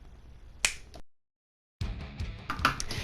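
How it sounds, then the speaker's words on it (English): A single sharp finger snap cracks out close and clear, followed by a short silence and then a busy burst of other sound. "I'm pretty sure if I just snap my fingers, it'll go to the right game."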